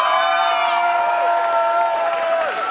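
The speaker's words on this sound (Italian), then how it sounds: "Donc applaudissez-les bien fort." A crowd at an outdoor Fête de la Musique cheers and shouts with high-pitched whoops for salsa rueda dance students, a loud, sustained din of voices throughout.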